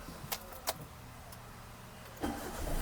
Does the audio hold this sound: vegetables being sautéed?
no